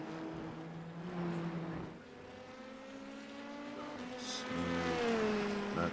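An IndyNXT racing car in iRacing drones close by, its engine note rising and falling through gear changes and revving up again toward the end, steady and fairly loud.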